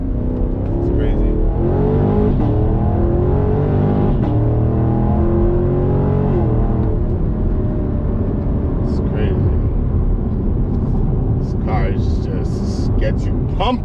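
A Chevrolet Camaro SS engine drones and revs loudly from inside the car, pitch rising and shifting with acceleration, while someone talks over it.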